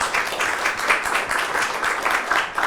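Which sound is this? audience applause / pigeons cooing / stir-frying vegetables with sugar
audience applause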